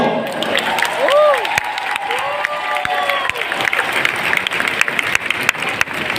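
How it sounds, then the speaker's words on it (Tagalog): A crowd at a PDP Laban political rally applauds steadily for a candidate, with whistles sliding up and down and scattered cheers over dense, continuous clapping. "Isang muling malakas na palakpak para kay Attorney Lambino."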